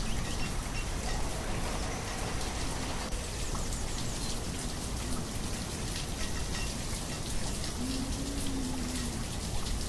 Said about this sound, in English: Look at the rain. It's terrible.